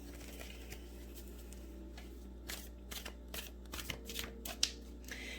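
An oversized tarot deck shuffled by hand, soft papery riffles and flicks that grow busier and more rhythmic toward the end, quiet and close with no talking.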